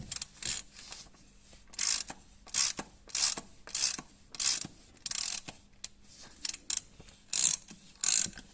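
Close ratcheting clicks from a wrench removing a part on a Volvo V60, in repeated short bursts with brief pauses between them.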